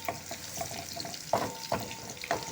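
Garlic frying in oil makes a quiet crackling sizzle, with a few soft utensil taps and scrapes standing out near the middle and end, fairly faint and close.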